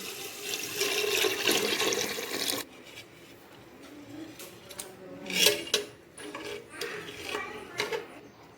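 Water gushes and splashes steadily for a couple of seconds into a cooking pot of chicken and rice for biryani, then gives way to quieter clinks and scraping sounds.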